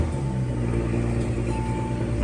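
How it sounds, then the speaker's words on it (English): A 2018 Audi SQ5 with a 3.0 V6 turbo engine runs with a steady, close, low droning hum, holding an even idle without a clear start-up surge. "I'll start the car up for you."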